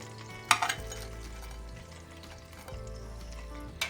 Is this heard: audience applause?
no